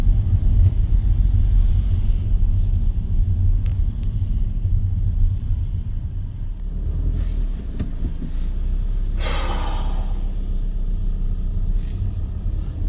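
Road traffic rumbling steadily, a deep continuous engine drone from cars nearby, with a brief brighter whoosh of a passing vehicle partway through, no voices.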